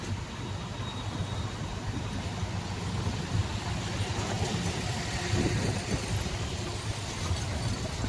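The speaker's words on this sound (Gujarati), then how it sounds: "Railway train." A railway train passes at a distance through a city at dusk, a steady low rumble and rolling clatter that holds throughout at moderate volume with no talk.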